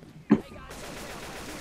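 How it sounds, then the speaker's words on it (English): A single shotgun blast fires in Left 4 Dead 2, a sharp loud burst followed by a steady broad hiss of game ambience. "This shotgun sounds pretty good."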